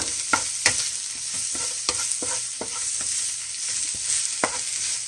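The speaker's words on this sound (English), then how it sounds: "You can saute it till it becomes tender." Dragon kale sautés in a pan with a constant bright sizzle, broken by a regular series of sharp scrapes and taps as a utensil stirs the leaves, close and fairly loud, with no voices.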